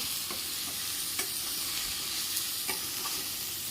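Fresh turmeric root vegetable with masala being stirred in a pan, a continuous close sizzle broken by occasional soft scrapes and taps of the spatula.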